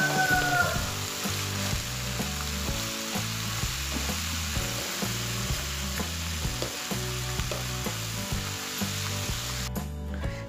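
Tempeh gembus and papaya sauté in a pan, giving a steady, close sizzle and frying crackle that runs through the whole stretch without speech.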